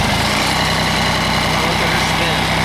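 A three-cylinder Yanmar diesel in a John Deere 855 compact tractor cranks and turns over with a steady, loud, close mechanical chug.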